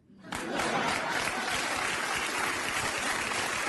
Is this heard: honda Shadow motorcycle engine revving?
no